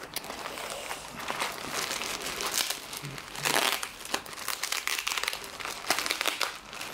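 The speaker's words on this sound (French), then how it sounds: "je vais faire un unboxing d'un colis que j'ai reçu aujourd'hui de AliExpress" Close, continuous crinkling and rustling of plastic packaging as a parcel from AliExpress is handled and opened, with irregular louder crackles and tearing-like bursts and no voices.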